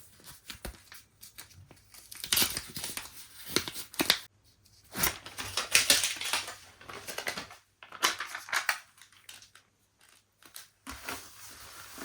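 Close crinkling and tearing of paper in short bursts with quiet pauses between, as a small paper surprise packet is peeled open by hand.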